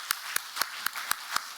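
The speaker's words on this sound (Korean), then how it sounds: "우리와 늘 동행하실 주님께 찬양의 박수와 함께 올려드리겠습니다" Congregation at a Korean Presbyterian church service claps in praise, about seven distinct claps in steady rhythm roughly a quarter second apart, moderately quiet in a reverberant room with no talk.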